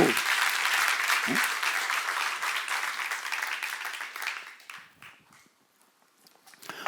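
A church congregation applauds during a seminar on Exodus at Jesus-Centered Church. The clapping is loud and dense at first, with a voice over it briefly, then fades out to near silence.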